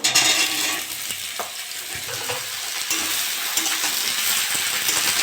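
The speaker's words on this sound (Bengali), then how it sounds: "আলু বেগুন দিয়ে ভালো করে একটু নেড়ে চেড়ে নেবো" Loud, close sizzling of potato and eggplant frying in oil with green chillies, with scraping stirring sounds from a spatula moving through the pan; no voices.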